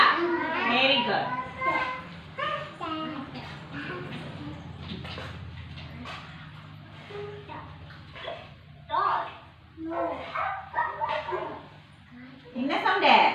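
A dog barks and yips in short bursts while a child and an adult talk over it.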